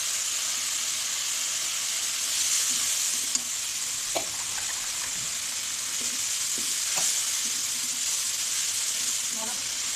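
Chili and cumin powder spices are sautéed in hot oil, giving a bright, steady sizzling hiss punctuated by a few soft stirring clicks and scrapes, close and continuous.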